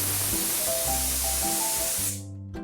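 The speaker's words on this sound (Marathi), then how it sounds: "आता मीठ घालून कुकरला झाकण लावून 4 ते 5 शिट्ट्या आपण त्याला देऊया" A pressure cooker on a medium flame lets off a loud, close rush of steam through its whistle, a continuous hiss carrying wavering tones that cuts off sharply near the end.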